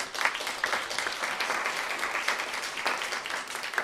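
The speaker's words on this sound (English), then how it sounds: "So yeah, give some applause." Audience applauding at an entertainment industry panel, a steady wash of many hands clapping that stays fairly even and moderately loud throughout, with no one speaking over it.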